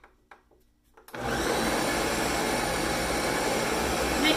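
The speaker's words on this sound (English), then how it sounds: "Get everything into your blender." A blender starts abruptly and runs steadily and loudly, mixing blueberry-lemon muffin batter; a few soft knocks come just before it switches on.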